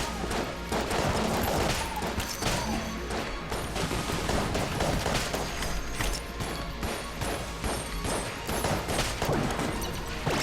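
Gunfire in Enter the Gungeon, a video game: a dense, unbroken stream of rapid mechanical shots and clattering impacts, steady and fairly loud throughout, layered over busy game sound.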